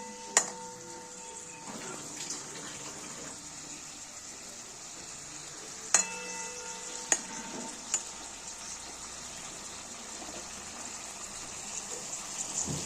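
Green chili and beans frying in a pan, a steady soft sizzle throughout with a few sharp clinks of a utensil against the pan.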